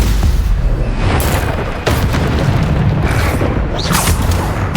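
Repeated Bombarda blast spells from Hogwarts Legacy, a loud, dense run of deep booming explosions with sharp bursts roughly every second or two, alone with no talk.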